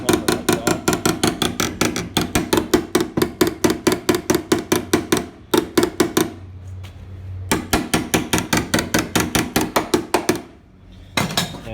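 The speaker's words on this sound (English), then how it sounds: "Then I welded the section, hammered it, made this curve" Rapid, loud hammer blows on welded sheet-metal body panel of a 1980 Chevette, shaping a curve; steady metallic strikes in long bursts with brief pauses, close and alone.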